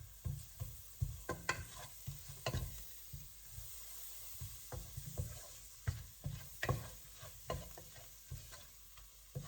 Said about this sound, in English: Now add about 3 tablespoons of butter into this.